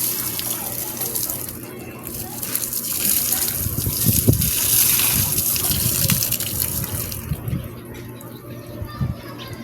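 Water gushes steadily from a tap, a continuous broadband rush that stays loud throughout, with faint voices murmuring underneath.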